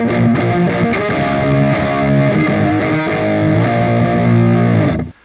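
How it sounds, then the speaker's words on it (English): Electric guitar through a fuzz distortion effect in the Audiosingularity Neurontube Tangie amp sim plugin, a dense, loud, saturated and continuous riff that ends sharply; no voices. "Next we have a fuzz, which is, some aggressive distortion."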